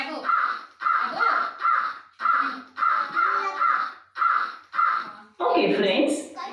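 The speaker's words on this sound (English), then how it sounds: "Which animal is this? Right. It's a crow." A crow caws in a steady series of about eight loud, harsh calls, evenly spaced and close, with a burst of noisier sound at the end.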